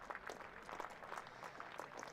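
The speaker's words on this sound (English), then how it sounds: "as Ben Stokes gets another round of applause" Faint, distant crowd applause at a Durham v Glamorgan county cricket match, a steady patter of clapping greeting Ben Stokes.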